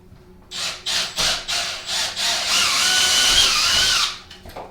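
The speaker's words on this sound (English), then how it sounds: "Try to set that up to drill." A power drill bores a 5/16 hole while a bathtub glass door is installed, starting in several short loud bursts, then running as one steady whining drive for about two seconds before it stops.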